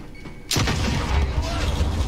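A frag grenade explodes in a video game, a sudden loud boom that cuts in abruptly and rolls on as a dense rumbling blast, with faint voices beneath.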